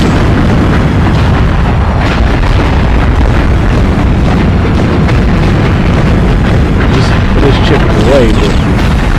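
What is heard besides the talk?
missile launcher explosions in video game Swashbucklers (PS2)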